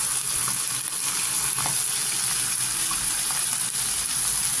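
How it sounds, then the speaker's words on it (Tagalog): Fish sauce splashes into a hot pan of milkfish (bangus) belly, giving a steady, loud sizzle and frying hiss that runs unbroken from start to finish with no voices over it. "Ilagay natin ang patis."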